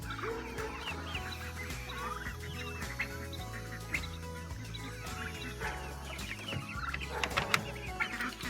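A flock of free-ranging chickens clucks continuously, with overlapping low burbling calls and sharper squawks scattered through the stretch, moderately close and fairly quiet.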